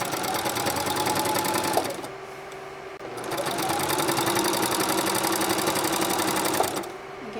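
A sewing machine runs a straight top stitch 1/4 inch from the edge of a baby blanket, a fast, even mechanical rattle that pauses briefly for about a second before resuming, close and loud.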